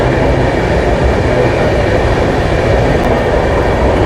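A train runs steadily past local stations in Ahmedabad, a loud, continuous rolling rumble with a constant mechanical drone and no breaks, heard up close from on board.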